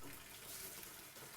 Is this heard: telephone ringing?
no